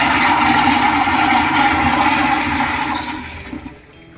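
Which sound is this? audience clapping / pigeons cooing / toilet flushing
toilet flushing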